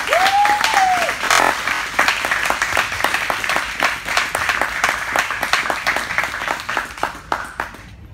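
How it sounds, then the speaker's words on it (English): A live radio-station audience claps for Skrilla Montana, producing sustained, dense applause that opens with a short rising whistle or whoop and carries on evenly before easing slightly at the close. "I need y'all to start clapping right now for the one and only Skrilla Montana"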